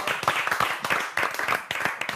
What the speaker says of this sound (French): On a envie de vous applaudir, Amandine.